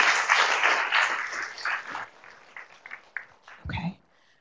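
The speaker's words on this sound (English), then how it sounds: "Please, round of applause for all of our topic 2 panelists" A meeting audience applauds a panel on chronic pain drug development, a dense burst of clapping that thins into scattered claps and fades out near the end.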